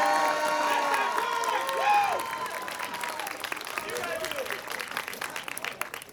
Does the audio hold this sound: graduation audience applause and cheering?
yes